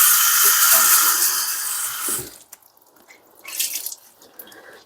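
A scrubby pad is washed under a running kitchen tap, a strong close hiss of water for about two seconds that cuts off into quieter splashes and drips.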